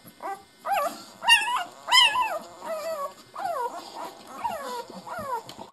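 Newborn puppies, including a little black one searching for its mother, whimper and whine in a string of high, wavering cries, close and fairly loud, several calls in steady succession with no talking.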